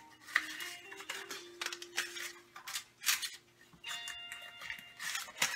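Paper cupcake liners being pressed into an aluminum pan, giving soft irregular crinkles and light tapping clicks at close range, with a faint steady background hum and no talking.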